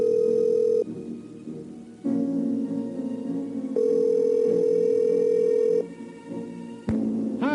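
Telephone line tones in the Nancy Drew: Secrets Can Kill game: steady electronic tones switch on and off in alternating blocks, and a short rising chirp sounds near the end.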